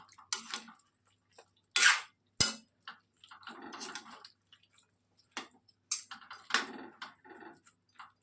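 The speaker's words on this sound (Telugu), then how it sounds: "ఇప్పుడు ఒక్కసారి కలిపేసేసి మూత పెట్టేసి" Okra cooked in a curd curry gets stirred in a pot, a few scraping clinks of a spoon against metal, then a sharp clang as the lid is set down, with quieter handling taps around it and no talking.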